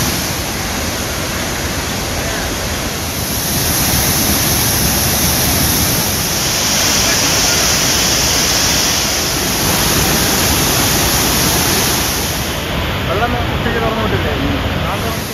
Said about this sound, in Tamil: திற்பரப்பு அருவியில் தண்ணீர் ஆர்ப்பரித்து கொட்டுகிறது